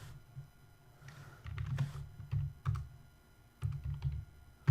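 Someone types on a computer keyboard at a desk. Soft clusters of keystrokes come in short irregular bursts with pauses between them, close but quiet.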